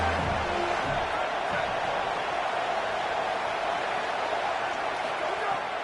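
A steady, roaring stadium crowd cheers continuously, loud and unbroken, with a commentator's voice faintly underneath, in a college football video game on a big third down.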